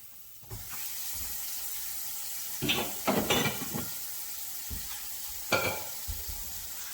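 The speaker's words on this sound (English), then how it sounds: "we're going to add 2 cups of water to it." Two cups of water go into a hot pot of cooking rice, hitting the pan in several loud hissing, sizzling bursts over a steady low frying sizzle.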